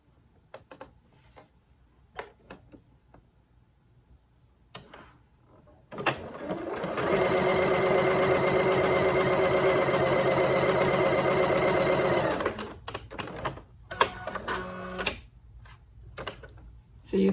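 A sewing machine stitches the corner of a quilt block in one steady, loud whirring run of about six seconds, preceded and followed by quiet clicks and handling noises.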